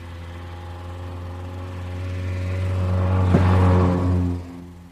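A 1938 Morgan 4/4 Series 1 coupe with a Coventry Climax engine runs steadily with a low droning hum, building gradually in loudness before easing off near the end.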